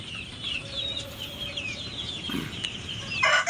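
Young chicks of mixed ages, one to three weeks old, including native Darag chickens, peep in a steady chorus with a rustle and flutter near the end.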